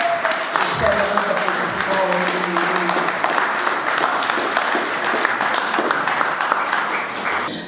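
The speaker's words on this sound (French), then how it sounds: "j'aimerais vous inviter à applaudir celui pour qui on se réunit tous ce soir" An audience in Brussels applauds an honored rumba musician at an award ceremony, a sustained burst of clapping; a voice briefly speaks over it at the start before the applause carries on alone.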